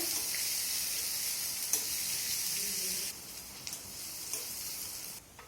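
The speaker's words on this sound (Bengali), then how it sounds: "সুন্দর একটা গন্ধ বের হলে এর মধ্যে দিয়ে দেবো কুচানো পেঁয়াজ। পেঁয়াজটাকে একটু ভেজে নেব।" Chopped onion fries in oil with tempered spices, giving an even, close sizzle with occasional light stirring clicks. The hiss drops quieter partway through and then keeps going.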